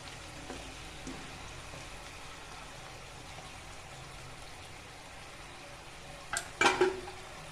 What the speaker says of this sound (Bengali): এইভাবে আমি পাপড়িগুলো ভেজে নেব লাল লাল করে।